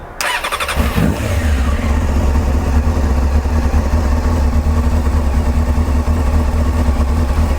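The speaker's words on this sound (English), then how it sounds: "the bike is already warmed up, but I'll need to start it up now" A Honda CBR600 motorcycle engine cranks briefly and catches, then settles into a loud, steady, close idle with a deep rumble that continues to the end.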